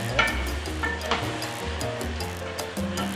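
Squid being stirred in a pot sizzles softly up close, with a steady hiss broken by a few scraping spoon strokes and light clinks.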